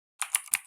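Short burst of typing on a computer keyboard: four or five distinct key clicks in quick succession, close and fairly crisp, with no voice over them.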